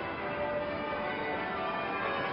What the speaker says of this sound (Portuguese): os sinos estão a tocar desde que o príncipe chegou aqui por volta das 10:15.